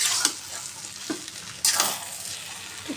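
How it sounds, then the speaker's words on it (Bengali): Khichuri is stirred in a pan after salt goes in, with a soft sizzle under a few distinct scraping strokes from a spoon. "দিয়ে একটু নাড়াচাড়া করে নিতে হবে"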